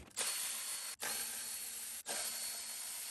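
A power tool whirs steadily in three close bursts with brief pauses between them, removing 12mm bolts from the upper plenum of a Toyota 3.4L 5VZ-FE V6 engine.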